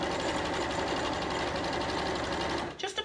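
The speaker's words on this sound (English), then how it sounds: "I'm actually stitching on the line." A sewing machine runs steadily, stitching along a marked line on fabric for a tic-tac-toe noughts and crosses play mat, a continuous close whir that stops abruptly near the end, followed by a couple of handling clicks.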